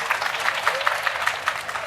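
A workshop audience in Kottakkal gives a brief round of light applause. The individual claps are rhythmic and fairly soft, heard against a room background with a voice partly mixed in.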